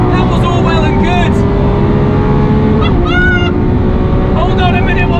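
A 760bhp Lamborghini SVJ supercar roars loudly and continuously down a track straight with rising engine pitch through gear changes, heard from inside the cabin.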